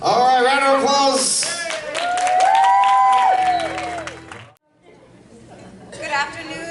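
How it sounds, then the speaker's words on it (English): A crowd at a birthday party claps and cheers over lively chatter and voices, then the noise drops to near silence before a few scattered sounds return. "All right, round of applause."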